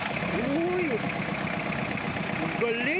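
An engine idles steadily throughout, with a low rumbling drone and faint whining tones drifting over it, loud and close.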